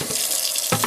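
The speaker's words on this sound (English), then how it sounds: "I just will fill that up with like lukewarm water" Lukewarm tap water runs into a 1 gallon watering can, a steady close hiss and splash that briefly changes character as the stream shifts.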